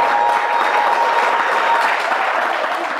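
Loud, steady crowd applause fills a live entertainment show with comedians and musicians, a dense continuous wash of many hands clapping with no voices over it.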